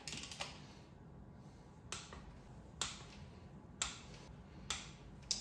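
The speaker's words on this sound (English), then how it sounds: "I have my torque wrench set here to 18 pound-feet." A torque wrench set to 18 pound-feet tightens 13 mm bolts on a Mustang water pump, producing sharp, quiet clicks at roughly one-second intervals against a faint background.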